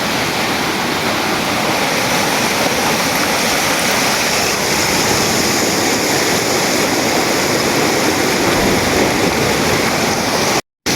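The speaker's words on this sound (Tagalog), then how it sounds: "lumakas ang agos ng ilog." A swollen mountain river rushes after heavy rain, a loud, constant roar of turbulent water with no voices, ending in a sudden cut.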